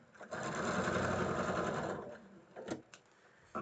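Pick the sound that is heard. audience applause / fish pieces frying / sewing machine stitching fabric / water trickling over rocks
sewing machine stitching fabric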